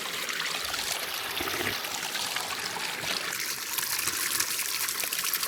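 Clean stream water in Lofoten, trickling and splashing in a bright, continuous babble close by, with no voices.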